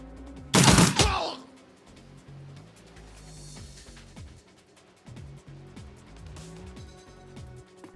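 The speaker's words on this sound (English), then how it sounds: "Get a nice group of shots with Sam." Quick burst of gunfire in the turn-based game Shadowrun Returns, a loud sharp crack of a few shots early on, followed by quieter game effects and background music.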